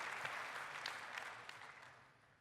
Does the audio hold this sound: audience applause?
yes